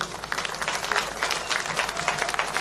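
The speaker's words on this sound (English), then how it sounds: "Please give him a round of applause, yeah?" A crowd at a talk in Telford applauds the founder of NAGA, steady mid-volume clapping filling the room for a few seconds with a faint voice mixed in.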